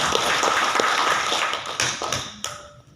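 A hall audience at a Muhammadiyah regional meeting in Riau breaks into applause, a busy crackle of clapping that thins out, with a few sharper knocks near the end.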